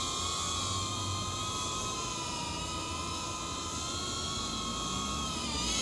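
A Darkstar 22 FPV drone hovering about one to one and a half meters from the microphone, giving off a loud, continuous high-pitched whine of spinning props with steady layered tones and slight wavering, alone without talk.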